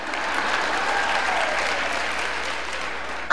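A crowd claps continuously, a dense, even wash of applause from a sizable audience that holds steady throughout.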